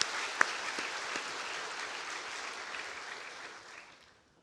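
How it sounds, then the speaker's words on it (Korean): Congregation in a church applauding the choir after its hymn: a dense, steady round of clapping from a large crowd that holds for several seconds, then thins and fades out near the end. "우리 감사의 박수 한번 하겠습니다."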